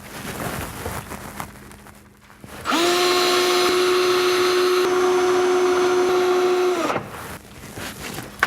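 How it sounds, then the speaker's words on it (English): A power drill bores one of four holes through a corner organiser template into a cabinet, a single loud steady whine of about four seconds that starts and stops abruptly, with quieter handling noise before and after. "then drill for the 4 holes which are positioned there"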